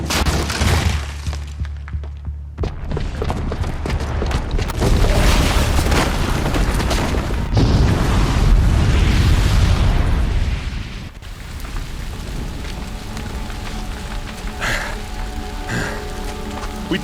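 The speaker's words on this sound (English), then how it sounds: "the booby trap on the bomb downstairs is gonna get set off" A booby-trapped bomb detonating in the video game Horizon Zero Dawn: a loud, sustained rumbling blast with crackling debris and roaring noise for about ten seconds, then a lower lingering rumble with game ambience.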